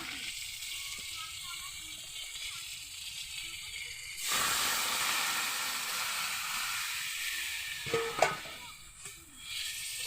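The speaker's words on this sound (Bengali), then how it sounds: "এবার দেখো আমি এখানে জল ঢেলে দেব" Water poured into a hot pan of frying pointed gourd: a low simmering sizzle suddenly bursts into a loud, sustained steamy hiss that fades gradually, with a couple of brief clinks near the end.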